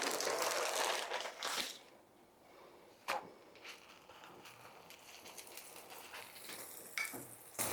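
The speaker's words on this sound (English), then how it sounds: "Can you hear that sizzle?" Food sizzling in a hot pan during home cooking, a broad crackling hiss that is loud at the start, then drops to a faint sputter with occasional sharp pops and a louder burst at the end.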